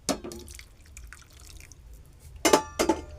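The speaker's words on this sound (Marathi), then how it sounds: "थोडंसं परत पाणी टाकतो" Water splashes into a pot of chickpea curry in a home kitchen, a quick pour at the start and two more short splashes near the end, close by over a quiet background.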